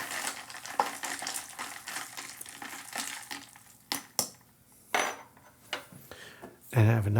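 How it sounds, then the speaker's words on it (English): A melon sparkle drink stirred in a glass: a series of light clinks and scrapes of a spoon against glass, repeated in an irregular rhythm, close and moderately loud, with a louder clatter near the end. "We're going to give this a little stir"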